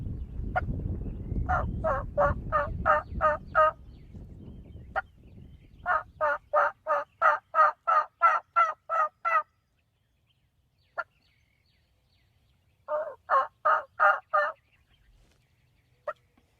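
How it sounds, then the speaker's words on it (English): Wild turkeys gobble in rapid rattling series near a ground blind in Texas, three bursts of sharp repeated notes with single clucks between, fairly close, after a fading low rumble. "we hear birds gobbling left and right, left and right"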